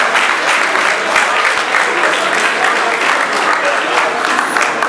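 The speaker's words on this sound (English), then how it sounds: "Again, a round of applause. A loud round of applause." A loud, sustained round of applause fills a school lecture hall during a standing ovation, a dense and steady wash of many hands clapping at once.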